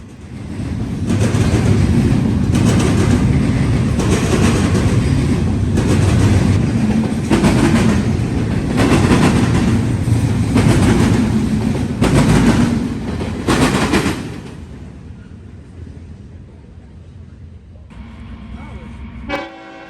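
Norfolk Southern intermodal freight I-008, hauling containers and trailers, rumbles past loud and close with rhythmic clacking wheels for about fourteen seconds, then fades to quiet, with a distant horn note near the end.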